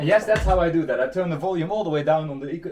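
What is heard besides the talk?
None of the usual background noises is heard.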